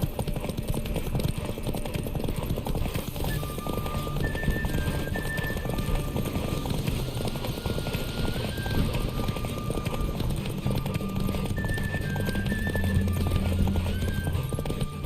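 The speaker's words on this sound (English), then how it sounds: "The winner is Geralt of Rivia, riding Roach Glory to the victor" A horse gallops in The Witcher 3 during a derby race, its hooves clip-clopping in a rapid, continuous rhythm, loud and close, with occasional whinnies and faint game music.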